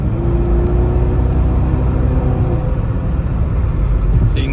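A 1983 Porsche 928S accelerates hard on the road, its engine giving a loud, steady, close rumble with a rising whir that lasts throughout.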